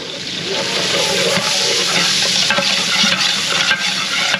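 Garlic and onion sizzling and frying in a pan for catering-style lomi, a steady loud hiss with stirring scrapes throughout.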